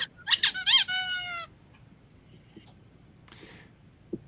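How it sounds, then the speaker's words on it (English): A squeaky toy squeaks in a rapid burst of several sharp, close, loud squeaks, then quiet with a couple of faint handling clicks and a soft rasp. "It's a squeaky toy."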